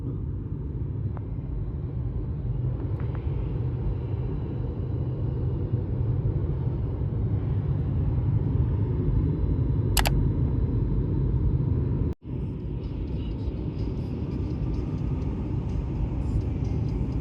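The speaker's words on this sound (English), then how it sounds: "There's a freeway nearby. It might be a little loud." Steady low rumble of nearby freeway traffic, loud and continuous throughout, with a brief sharp click partway through and a short dropout near the end; no one speaks.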